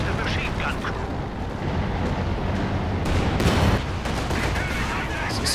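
Gunfire and explosions from a strafing run rumble through a 3v3 Company of Heroes 2 match on the Port of Hamburg map, loud and continuous under a commentator's talk, with sharper bursts around the middle.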